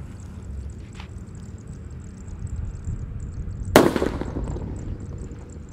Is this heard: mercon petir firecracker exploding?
yes